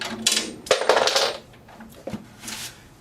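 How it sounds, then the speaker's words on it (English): A metal drum key dropped onto the floor during snare drum tuning, landing with a bright clatter and a couple of bounces, then a few smaller metallic ticks as it settles nearby. "You might want to refrain from dropping your drum keys."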